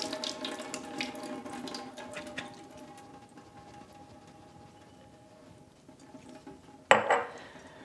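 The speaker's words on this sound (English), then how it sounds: "I'm going to first open the jar and I'm going to drain them into the sink." Liquid from a jar of home-canned potatoes trickles and splashes into a sink at low level, with faint glass clinks, ending in a sudden louder pour and clatter.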